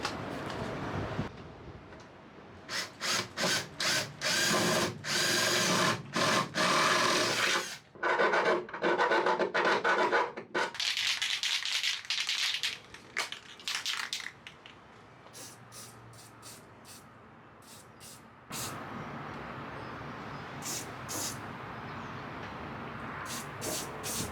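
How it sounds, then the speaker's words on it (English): Rivnut being installed with a hand rivnut setting tool on a Toyota Land Cruiser Troop Carrier, giving repeated rasping, scraping strokes in bursts, close and fairly loud, with pauses between runs and a steadier grinding stretch near the end. "Let's get this last rivnut in here."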